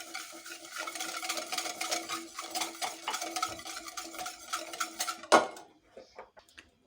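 Eggs and sugar are hand-whisked in a bowl for a banana caramel cake, a rapid steady clatter of whisk against the bowl that stops with a final knock.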